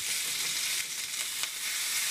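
Strips of bacon sizzle hard in a hot pan, a constant bright hiss with a few sharp spattering pops heard up close and uninterrupted.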